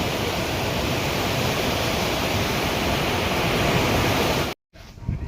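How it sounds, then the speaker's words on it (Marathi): A waterfall at Dajipur, in the Radhanagari area, during the rain season: a loud, continuous, even rush of falling water that cuts out briefly near the end before returning, with no talking. "मस्त आम्ही आलोय दाजीपूरच्या धबधब्यावर"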